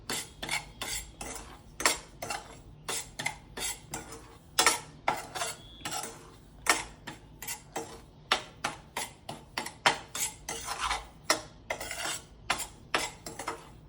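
Semolina (rava) roasting in a pan over low gas for suji halwa, a spoon scraping and tapping the pan in a steady, uneven rhythm of sharp clinks, close and alone with no talk.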